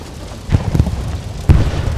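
Two dull low booms from a rocket blast in the WWII shooter Hell Let Loose, one at mid-clip and a heavier one near the end, heard at a distance over steady battlefield rumble.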